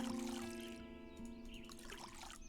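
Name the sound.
watering a plant in the video game Witchy Life Story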